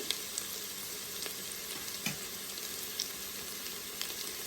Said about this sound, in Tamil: இப்போது 6 நிமிஷமாக வெஜிடபிள் எல்லாம் நல்லா வதங்கிடுச்சு.